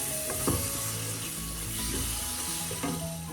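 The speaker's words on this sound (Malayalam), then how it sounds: "ഈ സമയം നമുക്ക് തക്കാളി ചേർക്കാം. അത് ഇതോടൊപ്പം ഒന്ന് വഴറ്റിയെടുക്കാം." Tomatoes sautéing in a pan for a pepper fish curry with avoli fish, a steady close sizzle with occasional scraping stirs of a spoon against the pan.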